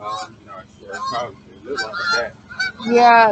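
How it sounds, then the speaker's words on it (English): Geese honk loudly in the background during an online class meeting, several harsh calls rising in a burst toward the end, with a person speaking briefly over them. "I hear some geese in the background"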